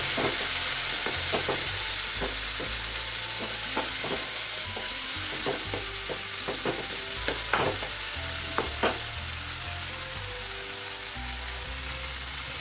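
Red chili powder fries in oil in a pan for bata fish posto, a steady close sizzle running throughout, punctuated by light clicks and scrapes of stirring, with no voices.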